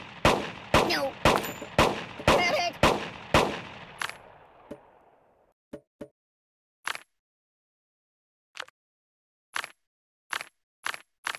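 Pistol shots from a Beretta in the Kick the Buddy mobile game at a shooting range: a rapid burst of about eight sharp, loud cracks, then scattered single shots spaced out with short metallic clicks between, no talk.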